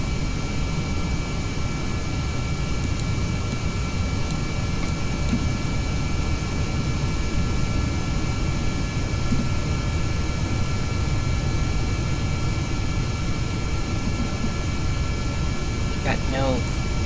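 Jet engines on a craft in the Kerbal Space Program game roar in a steady, loud, unbroken drone that never changes, with a brief higher chirp near the end.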